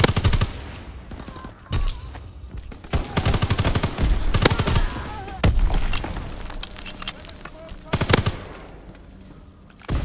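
Machine-gun bursts crackle in short, repeated volleys in a WW2 shooter game, with heavier thumps between them, moderately loud against a steady background.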